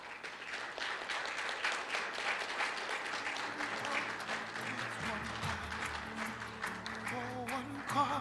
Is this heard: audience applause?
yes